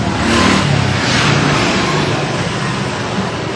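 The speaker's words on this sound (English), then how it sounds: "Watch out for speeding cars." A speeding car roars past on a busy street outside a market, its broad engine and tyre noise filling the air and holding steady throughout amid general traffic din.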